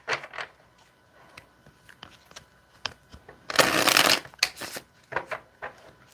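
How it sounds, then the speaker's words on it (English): Playing cards are shuffled close by: a few soft riffles and taps, then one loud, dense riffle lasting about a second. "Let's get one more shuffle here."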